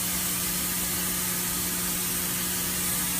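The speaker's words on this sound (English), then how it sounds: "So we'll go ahead and spray her first" A spray tan gun hisses steadily, spraying tanning solution onto a leg in a continuous close, even stream with no talking.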